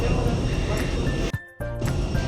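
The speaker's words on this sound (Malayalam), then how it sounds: "ഇതാണ് നമ്മൾ വന്ന ഫ്ലൈറ്റ്." An airplane at the airport just after landing fills the air with a loud, steady broadband roar that cuts out briefly midway, with voices heard alongside it.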